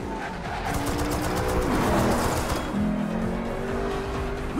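A truck pulls around in a film action scene with squealing, skidding tires, a loud, close, sustained screech over engine noise lasting several seconds.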